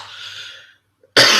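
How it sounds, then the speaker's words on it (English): A single harsh cough from a person who has been sick for a month, loud and close, followed by a brief silence and then another forceful cough burst. "I've had a really bad cough for like a whole month"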